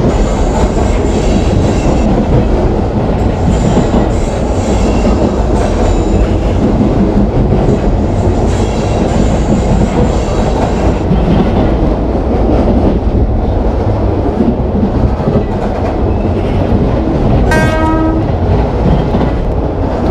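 A train in Indian Train Simulator runs loud and close with a continuous rumble and rhythmic clatter as it passes over changing tracks. A short horn blast sounds near the end.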